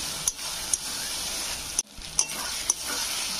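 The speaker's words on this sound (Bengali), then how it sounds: "কিন্তু পেঁয়াজটা খুব ভালো করে ভাজতে হবে।" Onion frying in plenty of oil for a chicken dish, giving a continuous close sizzle with a few short stirring scrapes and knocks.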